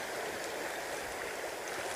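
A river flows dangerously, making a steady, broad rushing wash with no breaks, heard close and alone.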